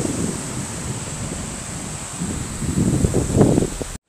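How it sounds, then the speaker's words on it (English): Ocean surf on a beach in Kuantan, Malaysia: a steady wash of breaking waves that swells louder toward the end, mixed with buffeting wind on the microphone. "Look at the waves."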